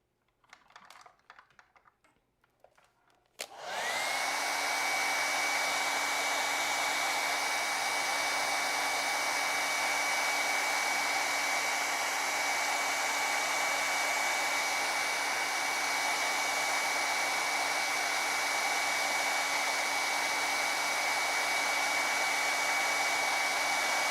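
A hair dryer runs steadily on a watercolor painting of a betta fish, switching on after a few seconds of quiet handling and then holding a loud, constant whirring blow with a tonal hum to the end.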